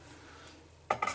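Twenty-five grams of Bramling Cross hops go into boiling homebrew wort for a Coopers Ashes Ale. A soft background hiss gives way to a sudden close rustle and splash, followed by several more rough bursts.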